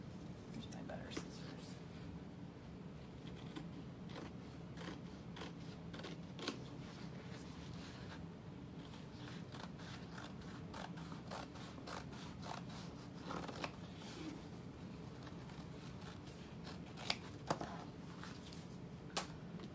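Scissors snip through lining fabric for a satchel in a sewing workspace, a long run of crisp, irregular cuts and rustles up close, with quiet talk underneath.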